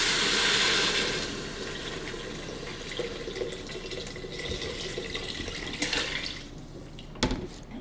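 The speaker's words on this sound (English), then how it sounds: "Then we're going to add our water." Water pouring into an Instant Pot for chicken pho in a home kitchen, a strong splashing fill at the start that settles into a softer running trickle with light drips and clinks, no talk.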